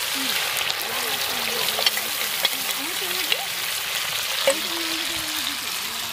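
Spice masala with tomato fries and is stirred in a pan for pangas fish curry, a steady sizzle broken by occasional spoon clinks and scrapes, with a low voice murmuring faintly underneath.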